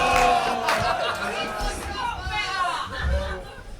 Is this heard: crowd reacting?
yes